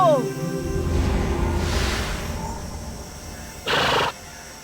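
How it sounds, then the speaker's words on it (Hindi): A horse in a children's cartoon about Krishna's Holi in Vrindavan gives a short descending whinny at the start, followed by a steady rushing background and a brief loud whoosh near the end. "लगता है ये घोड़ा किसी का नहीं है।"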